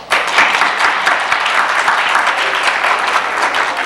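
Audience at a high school distinguished alumni awards ceremony bursts into steady, dense applause, many hands clapping loudly and continuously throughout.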